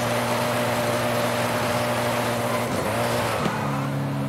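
Koenigsegg Agera and Koenigsegg One:1 hypercars, over 1,300 horsepower, launching in a Forza video game drag race: a loud, steady, droning engine roar that dips twice at quick gear shifts near the end, with no voices over it.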